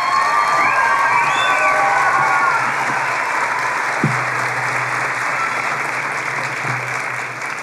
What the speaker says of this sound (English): maybe just a little more applause if you're kind of proud at this very moment